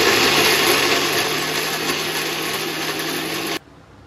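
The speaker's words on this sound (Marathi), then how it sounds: "कांदा, टोमॅटो, लसूण, आलं, थोडं खोबरं टाकूया आणि मस्त आहे की मिक्सरला लावून घेऊया" A mixer grinder running at full speed, blending onion, tomato, garlic, ginger and coconut into a paste, with a loud, steady whirring drone that cuts off abruptly near the end.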